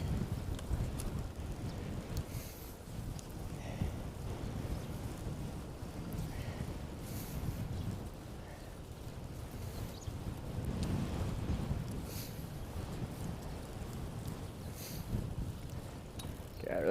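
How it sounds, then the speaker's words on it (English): Wind buffeting a microphone outdoors on a bike tour in South Korea, a steady low rumble that fills the whole stretch with gentle surges, with no speech. "Jeez, wind."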